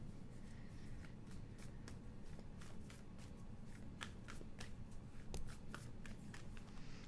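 Oracle cards being shuffled by hand, a quiet series of soft papery flicks and riffles repeating unevenly at close range, with no voices.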